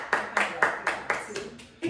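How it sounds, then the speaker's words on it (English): A hand-clap applause sound effect gives a series of about eight crisp, evenly spaced claps, close and dry, with no voices. "Hand clap, applause."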